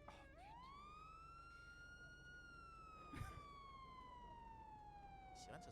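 Police siren in the GTA FiveM video game, one long wailing tone that rises and then slowly falls, faint and steady over a low rumbling background, with a brief knock partway through.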